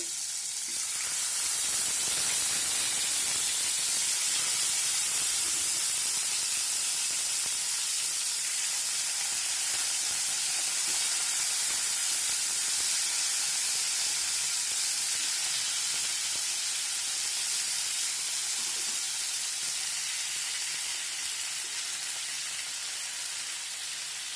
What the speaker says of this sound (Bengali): চিকেন রোস্ট রান্না করার জন্য প্রথমে আমি চিকেনগুলো একটু ভেজে নিব